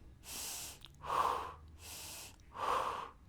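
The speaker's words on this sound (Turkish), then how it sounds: "Nefes aldım veriyorum" A person doing a swelling-reduction exercise breathes in and out slowly and deliberately, four long audible breaths alternating between softer airy inhales and louder, fuller exhales, close and alone.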